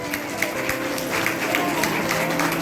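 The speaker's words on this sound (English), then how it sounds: "A big round of applause for them." Audience at a school valedictory event applauds the teachers with a dense, steady patter of clapping from a crowd, moderately loud and continuous over a few seconds with faint voices mixed in.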